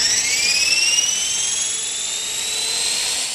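Blade Nano QX quadcopter drone hovering nearby with a noticeable vibration, a high, whining multi-tone motor buzz that shifts in pitch as it flies, no voices.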